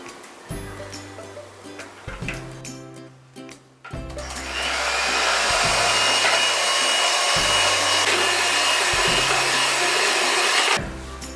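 An electric beater whips one cup of whipping cream for black forest cake icing, its steady motor whir running loud and continuous through most of the clip after a few short start-stop bursts.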